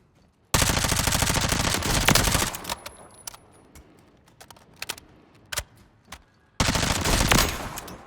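Lachmann Shroud SMG firing in Call of Duty Warzone, two long rapid full-auto bursts at the start and end with scattered single shots and clicks between, loud and close with no voices.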